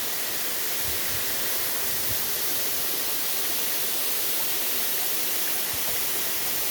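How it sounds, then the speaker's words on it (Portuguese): Waterfall at Cascata da Colmeia on a nature trail, heard as a steady, broadband rushing roar that continues unbroken and evenly loud throughout, with no voices over it. "Cascata da colmeia"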